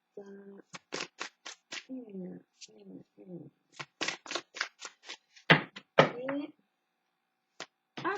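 Oracle cards shuffled by hand, a series of quick riffling and slapping bursts with short gaps, close and crisp, ending with a few scattered taps.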